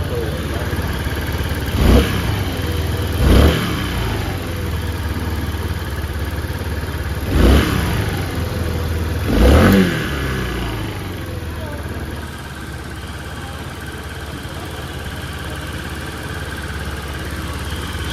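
A New Mingliu 125/150 scooter engine with a stalling fault runs steadily, with four short bursts of revving rising over the idle, close and fairly loud throughout.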